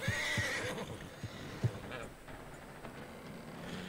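A horse whinnies faintly at the start in Red Dead Redemption 2, followed by a few soft hoof-like knocks over a quiet, murky background.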